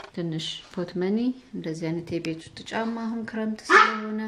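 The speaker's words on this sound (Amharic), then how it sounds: "ያው ውሻ እየጮኸ መውጣት ፈልጓል።" A dog barks in a home, with a few sharp barks breaking out over steady speech from someone talking nearby, the loudest burst coming near the end.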